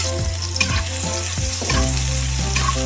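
Chopped onions sizzle steadily in a hot pan with a few soft stirring scrapes, a continuous close crackle that swells a little louder partway through, with no talking.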